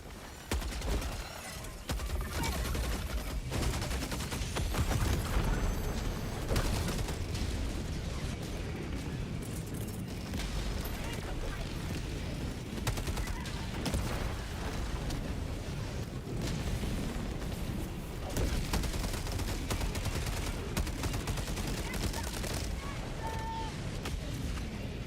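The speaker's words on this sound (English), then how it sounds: "Orbital barrage incoming. Stand clear." A video game orbital barrage: a dense, continuous stream of loud explosions, booms and rapid gunfire keeps going throughout with little letup, and a voice can be heard now and then.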